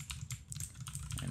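Quick keystrokes on a computer keyboard while coding, a rapid irregular patter of soft clicks, close but quiet, with no voices over it.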